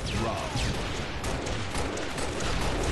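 Rockets and gunfire going off continuously in an ACL Go Pro Series shooter match, a dense, loud barrage of blasts and crackling shots layered with faint voices.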